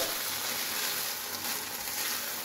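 Flat beans sizzling in a pan, a dense close hiss of frying that holds steady throughout, with no talking.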